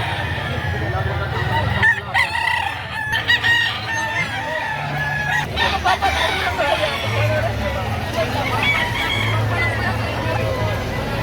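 Roosters for sale at a chicken market behind SM Lipa, Batangas, crow and cluck amid crowd babble, with someone talking over them throughout.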